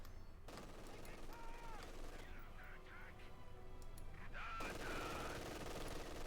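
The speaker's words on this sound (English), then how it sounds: "there you go, machine gun push here by VonIvan" Machine gun fire in the World War II strategy game Company of Heroes 2 as German Wehrmacht face Soviet forces, with rapid bursts of gunfire under a steady battle din and occasional talk over it.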